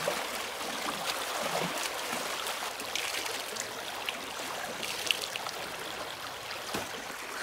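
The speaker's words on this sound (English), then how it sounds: "The river water is amazing for cleaning actually." River water flowing steadily while clothes are washed in it, a continuous close rushing and splashing with occasional louder splashes and no talking.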